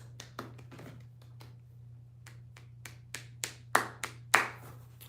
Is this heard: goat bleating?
no